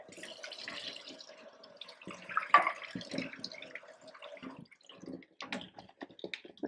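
Canned organic red kidney beans are rinsed under running water for veggie burgers: a soft, steady trickle of tap water with scattered splashes and light clatter close by, with no talk over it.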